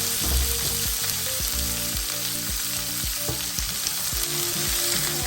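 Chillies and curry leaves fry in hot oil with loud, close, continuous sizzling and rapid spluttering pops, as if stirred in a pan, with no talk over it.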